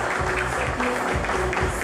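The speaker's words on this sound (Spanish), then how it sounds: "Un aplauso entonces" Steady, dense clapping fills the room as an audience applauds a 17-year-old candidate from Instituto Tecnológico 8 de Noviembre at the Reina de Piñas 2011 pageant presentation cocktail, with a faint tonal hum underneath.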